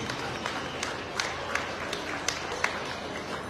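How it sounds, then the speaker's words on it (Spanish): Wedding guests applaud at a reception, a steady patter of clapping from a crowd with a few louder claps standing out, moderately distant. "Vengan los aplausos, señoras y señores."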